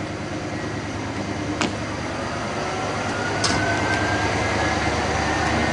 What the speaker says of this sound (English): they've now hooked up the new locomotive engine